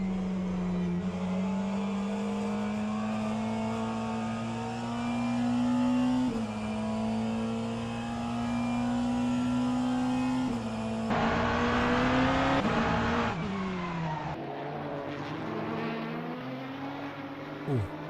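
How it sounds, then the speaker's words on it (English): Loud hypercar engines roar in a sim racing endurance game, a steady high drone that climbs and falls with gear changes and briefly flares harsher before easing off, with no talk over it. "Is it now better with volume? I think the hypercars are really,"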